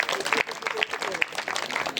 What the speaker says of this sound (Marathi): नसतील तर त्यांच्यासाठी टाळ्या वाजवायच्या.